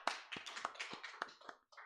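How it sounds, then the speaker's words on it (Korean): Congregation clapping during a Korean Full Gospel Sunday worship service, a loose run of separate sharp claps at a fairly even rhythm, moderately close and a little sparse, with no talk over it. "하나님께 영광의 박수 돌려드리겠습니다."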